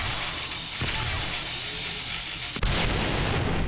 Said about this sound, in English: We're going to throw like 4 grenades down there and let's blow them